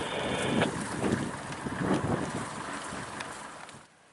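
Wind gusting past a sailboat cruising near the Dorus Mor toward Loch Crinan, a steady broadband rush with buffeting on the microphone, fading out at the end.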